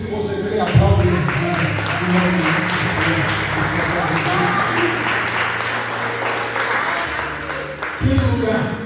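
A church congregation applauds during a sermon, a steady dense wash of clapping over several seconds with a voice audible over it near the start and end.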